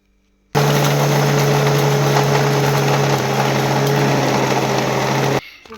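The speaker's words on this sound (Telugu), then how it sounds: "ఇదిగో మిక్సీ పట్టుకున్నాం అండి" A kitchen mixer grinder whirs as it grinds masala for chicken pickle. The loud, steady motor whine starts abruptly, holds for about five seconds and then cuts off.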